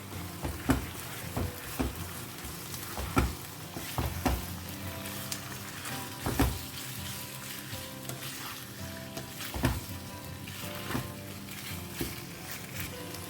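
Squid pieces fry and sizzle in a hot pan for Goan-style chilli calamari, a steady sizzle broken by repeated louder bursts and scrapes of stirring, close and with no voices.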